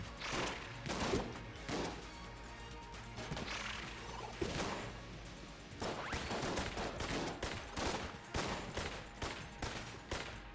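Rapid gunfire from the video game Enter the Gungeon: dense bursts of shots and crashing impacts repeat steadily and loudly across the whole stretch, with no voice over them.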